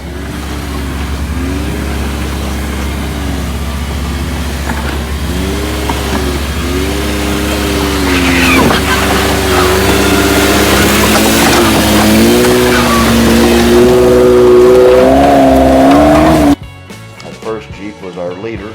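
A loud off-road truggy engine revs up and down in repeated surges at a trail ride, close and sustained, with voices talking over it before it cuts off abruptly.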